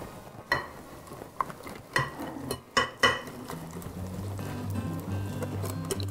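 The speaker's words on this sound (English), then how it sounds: "Now we mix everything." Dough ingredients with yeast being stirred and mixed by hand in a bowl, a few sharp scraping knocks early on, then steady soft churning close up, with no talking.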